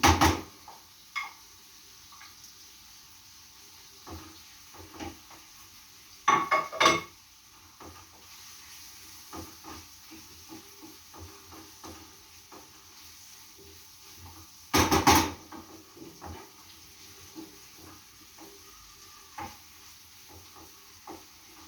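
Tomato paste being stirred into a sizzling pan while making stuffed peppers: close, intermittent scraping and clattering of a utensil against the pan, with two louder bursts of clatter over a low, steady sizzle, and no talking.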